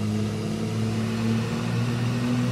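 A truck engine in American Truck Simulator runs steady and loud, holding a droning, slightly rising rev for a couple of seconds with no talk over it.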